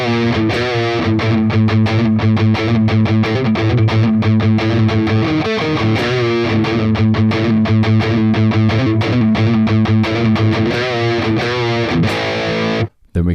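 Heavily distorted electric guitar plays the chugging interlude riff from a song, dense and loud throughout, with a short break just before the end.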